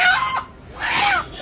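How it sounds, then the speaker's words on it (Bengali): A native village rooster crows at a rural market, loud and close, in one drawn-out crow that breaks into two strained bursts. "এই যে দেশি মোরগ নিলাম"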